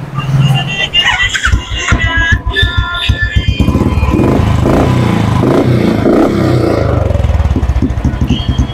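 A motorcycle engine starts and revs up close, a loud steady idle with rising bursts of throttle, with voices talking over it early on.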